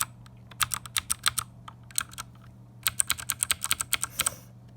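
Clacky keystrokes on a budget mechanical keyboard with lighting, typed in two quick bursts separated by a short pause, close and loud over a low steady hum, with no talking.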